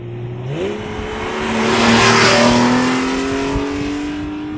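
A Porsche 911 GTS engine revs up loud and close, its pitch climbing sharply at the start and then holding a steady rising drone that swells in the middle and eases slightly toward the end, with no voices.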